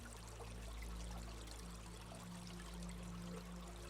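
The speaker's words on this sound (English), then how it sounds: "Somewhere ahead of you, that sound of water, always a little closer." Water flows steadily along a stream in a continuous soft rush with a pouring, trickling texture. It sounds even and unbroken, with no voices.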